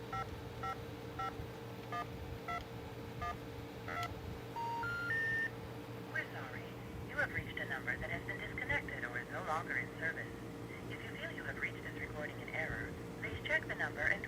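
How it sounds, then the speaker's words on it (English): Touch-tone dialing beeps played back from wave files in a homemade keypad project, a run of short, evenly spaced tones with a few held longer, heard amid background hum and occasional talk. "I finally have the touch tones happening when I play."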